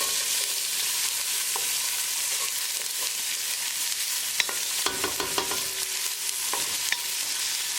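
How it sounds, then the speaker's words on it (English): Onion fries in a hot pan with garlic for a halibut fish curry, a steady close sizzle broken by several scraping, clinking stirs of a utensil against the pan. "Now add onion."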